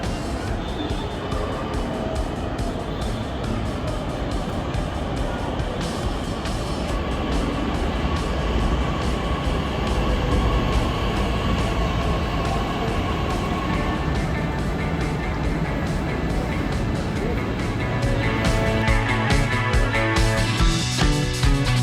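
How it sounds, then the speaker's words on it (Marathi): A Pune Metro purple line train arrives and travels on, a broad continuous rumble and rushing roar with a rising whine and clatter toward the end. "आपली मेट्रो आलेली आहे"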